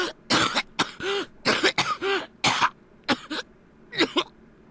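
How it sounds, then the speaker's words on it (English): A male character in the video game Hakuoki: Edo Blossoms coughs in a series of about ten harsh, wet bursts with throat clearing, close and loud, spaced irregularly with brief pauses and no talk. "How do they get such realistic coughs?"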